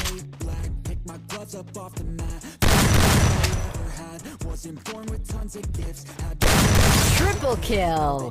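Gunfire in the Free Fire zombie-invasion mode, with bursts of loud, rapid shots in two dense volleys amid game effects and music, layered over talk.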